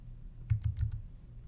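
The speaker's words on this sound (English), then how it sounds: "Pubmed by typing in all the search terms into the search box." Four quick keystrokes sound on a computer keyboard as search terms are typed into a Pubmed search box. They form a short, soft, close burst in an otherwise quiet room.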